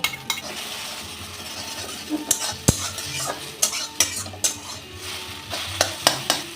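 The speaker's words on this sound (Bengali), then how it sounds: "আমি দুটো ডিম ফেটিয়ে একটু ভুজিয়া মতন করে নেব" Beaten eggs scramble in hot mustard oil in a wok, a close sizzle under frequent rhythmic scraping and clinking of a spatula against the metal pan, no voices.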